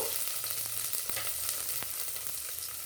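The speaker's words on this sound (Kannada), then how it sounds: "ಸಾಸಿವೆ ಕಾದು ಎಣ್ಣೆಯಲ್ಲಿ ಸೌಂಡ್ ಮಾಡುತ್ತಲ್ವ ಚಟಪಡ ಅಂತ, ಆವಾಗ ಕಟ್ ಮಾಡಿರ್ತಕ್ಕಂಥ ಈರುಳ್ಳಿ 1/4 ಕಪ್ಪು" Mustard seeds and chopped onion fry in hot oil for a ridge gourd sambar, giving a steady close sizzle with scattered popping crackles throughout.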